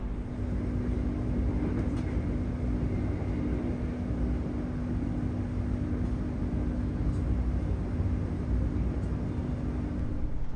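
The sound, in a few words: Manahan passenger train at Jatinegara station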